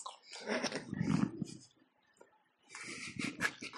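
A dog growls and grumbles up close in two bursts separated by a short quiet gap, low and rumbling with some breathy whines.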